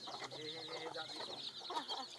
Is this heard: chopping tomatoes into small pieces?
no